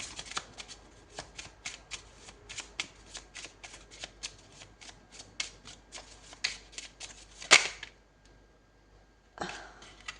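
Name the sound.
shuffling tarot cards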